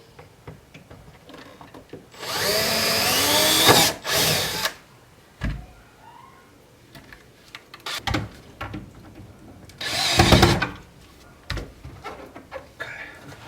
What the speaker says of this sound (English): get your 4 little screws and drill the speaker up in there